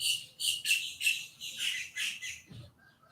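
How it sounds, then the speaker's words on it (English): A loud, harsh bird call repeated in about eight rhythmic squawks, close by and fairly piercing, with no talking. "that is a loud bird"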